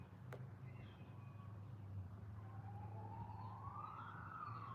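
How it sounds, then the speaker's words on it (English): A siren wails in the distance, rising and falling faintly over a low rumble of traffic. "And sirens."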